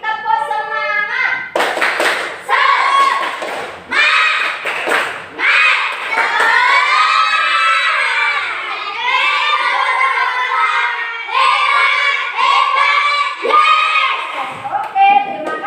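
In a classroom, a group of children performs a rhythmic clapping chant, with bursts of claps and thumps between loud, chanted voices that carry on through most of the passage.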